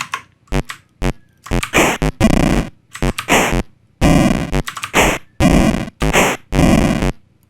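Synthesized sound effects for a homemade Space Invaders game, loud buzzy electronic bursts of varying length repeating in quick succession with short silent gaps between them.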